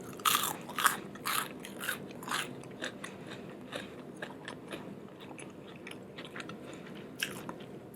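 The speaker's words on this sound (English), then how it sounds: "Everything is still crunchy." Close, crisp crunching bites and chewing of Popeyes fried food, loud snaps at the start followed by quieter, irregular munching with no talking.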